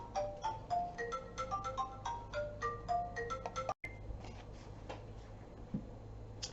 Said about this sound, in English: Interrupted by the phone again.